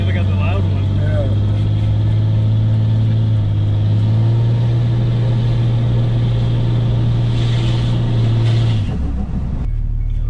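A car engine with an exhaust silencer fitted runs steadily at a low, even drone close by, with a slight pitch rise midway and a drop near the end, while people talk over it.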